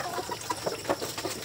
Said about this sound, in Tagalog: yung ating mga alagang native chicken din, pinawalan lang muna natin sa kanilang net